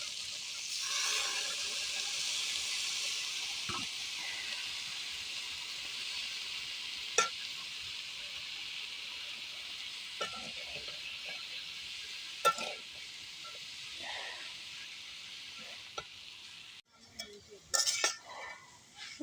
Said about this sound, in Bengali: এই যে আলু কষানো হচ্ছে